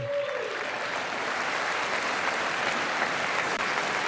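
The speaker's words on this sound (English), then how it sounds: "every time they're gonna stand up and clap" A chamber audience applauding steadily at the State of the Union, dense sustained clapping filling the hall with no break, loud and even throughout.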